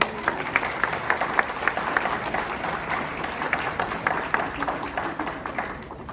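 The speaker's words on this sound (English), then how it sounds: "Please give a round of applause for the event committee team." An audience at an evening capstone event applauds the event committee team, with steady, moderately loud clapping and a few sharper individual claps standing out throughout.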